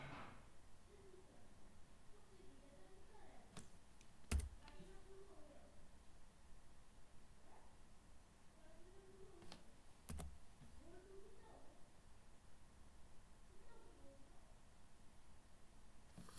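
Soft keystrokes on a computer keyboard while entering moves for an assembly language tic-tac-toe game, a few scattered clicks and two sharper taps over a faint hum and low background voice.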